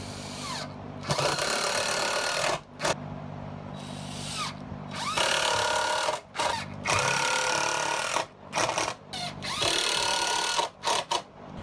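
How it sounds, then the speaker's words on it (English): A power drill drives screws into the wooden top of a rolling shop cart, sounding as several loud, sustained whirring bursts separated by short pauses, close and alone. "then I'm going to drive 4 screws into either corner"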